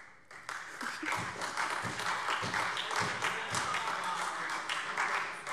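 Applause in a parliament plenary session, a moderate spread of clapping from the chamber that starts after a brief quiet moment and continues steadily, with a few louder individual claps and taps.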